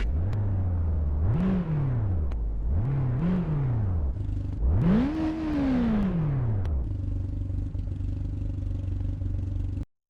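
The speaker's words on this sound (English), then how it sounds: "Okay, time to check out what this baby sounds like." Car engine in the BeamNG.Drive driving game revving repeatedly, three rising and falling bursts climbing higher each time, then settling into a steady idle hum before cutting out abruptly.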